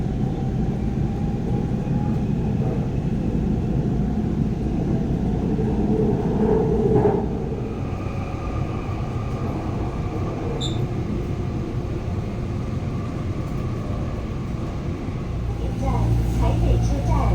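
A Taoyuan Airport MRT express train runs toward Taipei Main Station with a continuous low rumble and cabin hum, and a faint chime and quiet voices come through over the steady motion.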